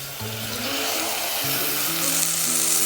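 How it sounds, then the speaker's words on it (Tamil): Onions sautéing in hot oil in a pan for chicken kulambu, a loud, continuous, close sizzle with a faint low hum beneath it. "கலர் சேஞ்ச் ஆகிற வரைக்கும் நல்லா வெங்காயத்தை வதக்கிக்கணும்."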